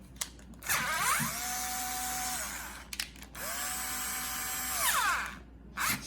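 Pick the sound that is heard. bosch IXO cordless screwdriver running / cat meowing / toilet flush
bosch IXO cordless screwdriver running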